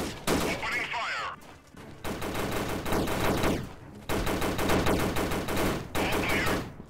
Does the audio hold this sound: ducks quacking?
no